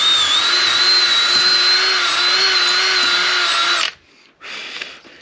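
A power drill with a drill bit whines at high speed for about four seconds, stops abruptly, then gives a brief second burst.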